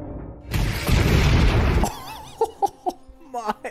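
Blaster explosions from The Book of Boba Fett burst out as a loud, sustained roar, then give way to several short sharp blasts and pops mixed with music, and a voice talks over the end.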